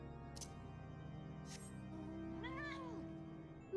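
One drawn-out cat meow rises and falls, fairly faint, over a steady electronic hum during a Final Fantasy XIV online session. A couple of soft clicks come before it.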